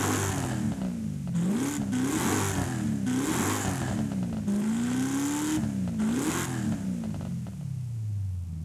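A 1996 Chevy Impala engine in Forza Horizon 5 revs repeatedly with a sport exhaust, its pitch climbing and falling in several surges, loud and close, with pops and crackles over a steady drone.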